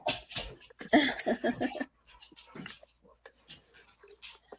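Dogs in a home at night give a few short whimpers and yelping, breathy bursts up close, clustered at the start, then fainter scattered noises.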